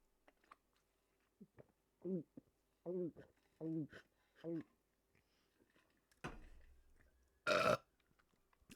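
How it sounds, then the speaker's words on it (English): Several loud, drawn-out burps come in a row at close range, each a deep throaty belch separated by short pauses, followed by a brief rustle and a sharp clatter near the end. "That burp was so disgusting."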